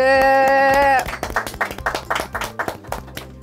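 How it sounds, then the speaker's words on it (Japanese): A bright tonal jingle rings in a studio for about a second, then a burst of hand clapping follows in quick, uneven claps. "拍手"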